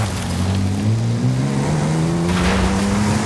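A high-riding Toyota driving in the video game Forza Horizon 5, its engine droning loud and steady with pitch slowly climbing as it accelerates, accompanied by broad rushing road and wind noise.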